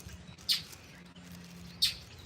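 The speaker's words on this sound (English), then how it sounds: "That's a scrub jay, if ever there was a scrub jay." A scrub jay calls outdoors, giving two short harsh notes about a second apart over a quiet background.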